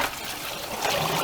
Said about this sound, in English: We're just going to pour the water in there